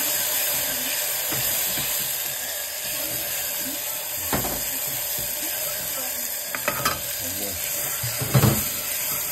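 Soaked bodi beans fry in hot oil for a home-made curry, a constant hissing sizzle with scattered clinks and scrapes of stirring, while faint voices murmur in the background.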